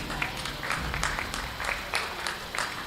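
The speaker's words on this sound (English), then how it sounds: "give Jake Knudsen a very nice round of applause" Applause rings out for the champion at a county fair jackpot beef show, a steady patter of clapping from a modest crowd with scattered louder claps, no voices over it.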